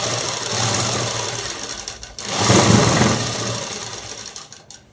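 A sewing machine runs steadily while stitching a black dress, a continuous mechanical whir with a brief dip near the middle before the motor picks up again.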